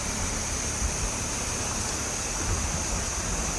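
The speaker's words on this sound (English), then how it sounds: "Just the sound of rivers and the jungle." A jungle river rushing along a mountain roadside, a steady broadband wash of flowing water, close and continuous with no voices.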